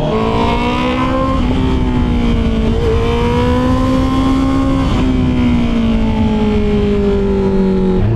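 Engine of a 2024 Honda CB650R motorcycle revving steadily at a meet, loud and close with pitch rising and falling through several throttle swells, no talking over it.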